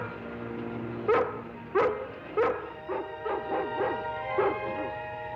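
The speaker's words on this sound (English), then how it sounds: "She's only been barking for the last 5 minutes, Harry." A big dog shut inside a room barks repeatedly, about seven sharp barks in an irregular run, slightly muffled over a steady background hum and music.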